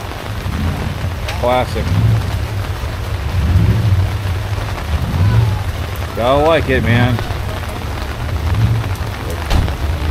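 Steady rain falls at an outdoor classic car weekend, a constant hiss with faint rumbles, while someone talks briefly over it.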